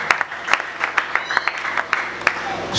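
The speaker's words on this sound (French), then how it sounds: "On acclame pour cette parole." A church congregation applauds during a sermon, with scattered, uneven claps from a moderately sized crowd rising and falling in short bursts over a steady background murmur.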